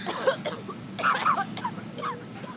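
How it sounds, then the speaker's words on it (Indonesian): Someone coughs and clears their throat in a bathroom as a radio-drama effect, several short, muffled hacking bursts over a faint hum, close and low. "suara batuk-batuk itu berasal dari kamar mandi."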